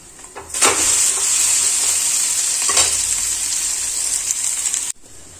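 An egg and potato snack fries in a pan over a low flame, a close, steady sizzle with a few scraping stirs, cutting out sharply just before the end.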